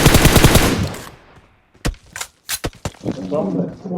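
Gunfire in the mobile battle-royale game PUBG Mobile: a sharp single shot, then a quick cluster of three or four loud, close bangs. A voice speaks before the shots and again after them.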